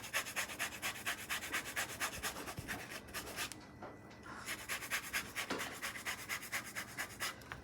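An orange is rubbed against a zester in quick, repeated rasping strokes, close and steady, with a brief pause midway before the scraping resumes.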